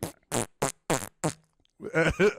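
A voice imitates a fart with a run of five short, punchy blurts spaced evenly apart, then a brief pause and a longer, louder buzzing blast at the end, all close and dry with no other talk.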